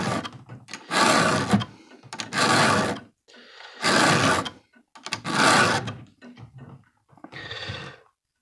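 A new chain on a Stihl 034 AV chainsaw being hand filed, with five loud, rasping file strokes of about a second each, separated by short pauses and lighter scraping between them.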